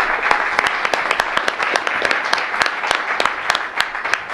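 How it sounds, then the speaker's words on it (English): Applause for a task force at a board of governors meeting, a dense, steady round of clapping from a room of people with sharper individual claps standing out, sustained and fairly loud throughout. "I want to just give you a super big round of applause and the whole task force for what you're doing"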